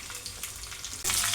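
Cumin and other tempering spices frying in hot oil for dal, a steady close sizzle with faint stirring that suddenly flares louder and hisses harder near the end.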